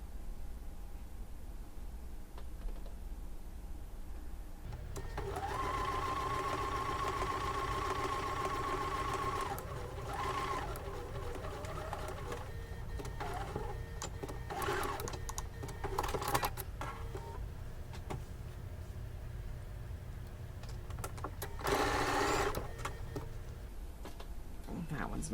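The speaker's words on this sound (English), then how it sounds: "stitch a 1/4 inch until we get to the dot, and then we're going to back stitch" A sewing machine runs in steady bursts while stitching a quilt seam, with a brief pause and restart for the back stitch. Quieter clicks and handling noises come between the runs, and a person speaks faintly in the background.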